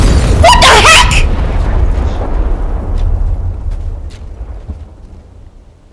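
A loud explosion in the video game Teardown blows up a giant mech, a sharp blast with crackling debris followed by a long rumbling decay that fades over several seconds.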